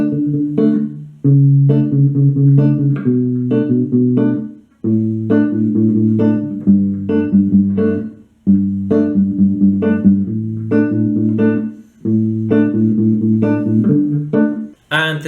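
An acoustic guitar picks out the opening part of a song, a steady, clear arpeggiated pattern of plucked chords repeating in close, even phrases with short gaps between them.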